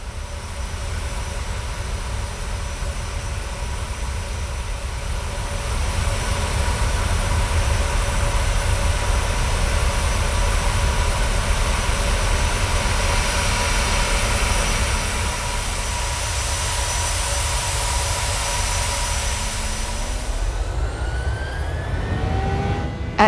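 Aeroflot airliner engines at takeoff from Moscow International Airport: a loud, steady broadband roar that swells after a few seconds and holds, with no talk.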